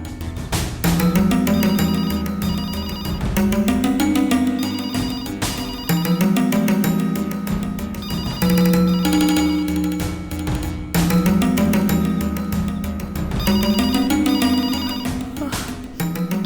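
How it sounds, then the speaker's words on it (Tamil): A telephone ringtone plays on loop, a loud, steady melodic ring repeating in clear cycles with no voices over it. "இந்த நேரத்துல யார் ஃபோன் பண்றா?"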